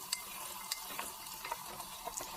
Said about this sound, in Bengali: পেঁয়াজটা আমি একদম লাল লাল করে ভাজবো